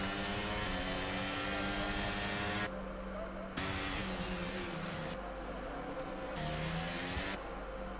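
Racing car engines whine at Monaco in a sim racing league, a steady high-revving drone with shifting pitch and abrupt cuts as gears change, under a commentator's voice.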